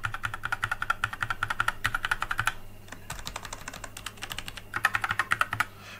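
Brown-switch mechanical keyboard on a compact 60% Kraken Pro board, typed in fast bursts of soft, muted clacks with a brief pause midway, close and clear with no talking.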